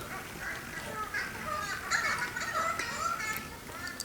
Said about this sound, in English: Let the birds entertain me.